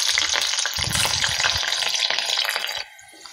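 Capsicum strips fry in hot oil in a pan with a loud, steady, crackling sizzle that dies down sharply near the end as the heat or stirring eases.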